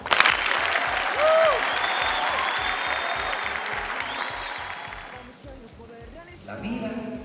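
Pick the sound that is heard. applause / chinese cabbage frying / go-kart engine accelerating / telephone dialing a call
applause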